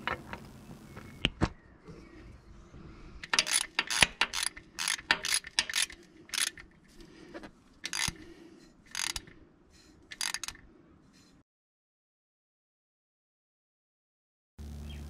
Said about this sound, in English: These use an O-ring to seal, and they bolt in,